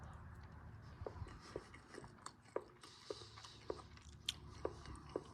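Quiet, close chewing of Brazilian army ration food, with a soft pepperoni and bacon-fat dish bitten and crunched in a steady rhythm of about a dozen moist chomps, with no talking.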